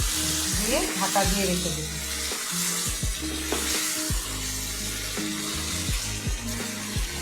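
Water goes into a pan of sizzling doi (yogurt) chicken curry, and a bubbling hiss carries on underneath while a person speaks over it.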